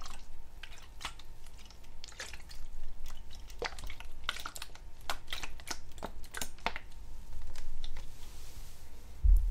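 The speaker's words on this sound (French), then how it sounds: "le bruit des touches du clavier sous les doigts est quelque chose de très relaxant également" Soft, irregular clicking of fingers tapping keyboard keys, close up and steady throughout, with no voices.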